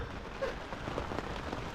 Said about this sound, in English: little gentle rain rolls in.